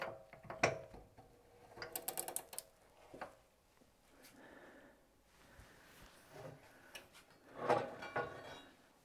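A ratchet wrench clicks in short bursts while bolts are tightened on a 25 mm suspension lift kit being fitted to a Volvo V90CC, with metallic clanks and quiet pauses in a workshop.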